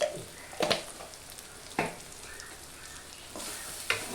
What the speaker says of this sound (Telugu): ఇది కూడా పచ్చివాసన వాసన పోయిన దాకా బాగా కలుపుకోవాలి